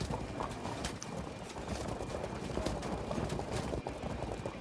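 Massed horse archers' hooves pound in a medieval battle game, a dense, continuous clip-clop rumble close and loud throughout with no pauses.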